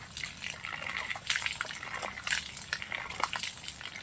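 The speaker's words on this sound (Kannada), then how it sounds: "ಒಂದು ಹತ್ತರಿಂದ ಹದಿನೈದು ಪಂಪ್ ಹೊಡೆದ್ರೆ ಒಂದು ಬಕೆಟ್ ಅಥವಾ ಒಂದು ಕೊಡದಲ್ಲಿ ನೀರು ತುಂಬುತ್ತೆ" Water from a hand-operated pump pours into a bucket with a steady, nearby gushing splash, rising in short surges with each stroke of the pump.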